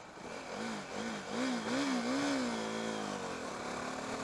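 A KTM Duke 390 motorcycle engine revs up and down in smooth rising and falling sweeps, then settles into a steady, throaty drone, close and fairly loud with no talking.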